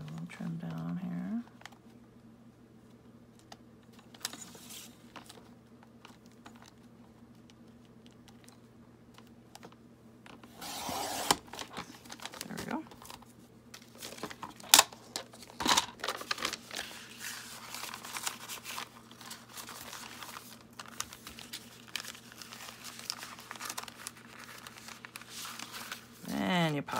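Scissors trimming the edge of a brown paper bag while making a junk journal, giving scattered short snips and crinkles over a steady background hum, with a person talking throughout.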